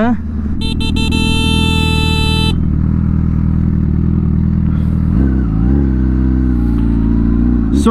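A Honda Fireblade SP and a Kawasaki Ninja ZX-10RR sport bike accelerate hard, one engine rising in a loud, continuous howl that climbs in pitch toward high revs. A brief horn-like tone sounds early, and the engine noise stays close throughout.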